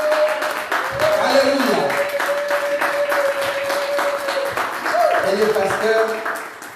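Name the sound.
church congregation applauding and cheering for the Lord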